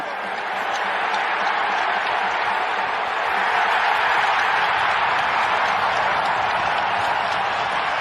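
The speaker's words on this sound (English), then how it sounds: "And the crowd is going crazy." An NHL hockey arena crowd roaring and cheering during a fight on the ice, a loud, sustained wash of voices and applause that swells slightly midway and never drops off.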